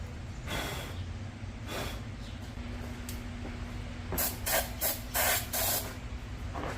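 Brake cleaner hisses from an aerosol can in short spray bursts, several quick blasts near the end, close and fairly quiet over a low background hum.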